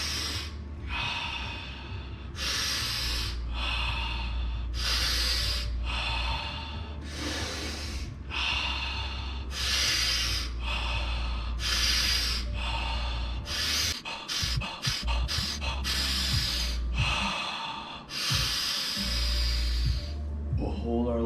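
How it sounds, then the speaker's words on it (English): Sharp, forceful nasal inhales alternate with softer exhales in a steady rhythm during an intense breath-training exercise, close and loud, the pace quickening into a flurry of quick breaths before slowing again, over a faint low hum. "now we're gonna breathe in really intense, almost like a jellyfish kind of coming up, and then exhale, soft"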